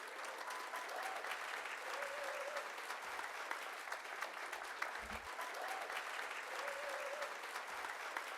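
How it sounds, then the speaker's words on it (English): Sustained applause from a large audience welcoming Governor Bob McDonnell, a steady, even wash of clapping that holds at a moderate distance for the full stretch with no talking over it. "Let's give a warm, biggest round of applause yet for Governor Bob McDonnell."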